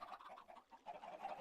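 Minecraft chickens clucking in a farm build, a steady run of soft midrange clucks with a brief dip in the middle, no talk over them.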